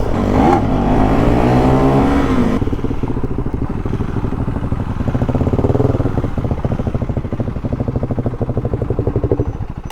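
Motorcycle engine revving and pulling hard through rising RPMs while riding, one of a Suzuki DRZ400SM, DRZ400S or KTM 390 Duke, loud and close with a steady buzzing exhaust note that climbs and holds, no talk.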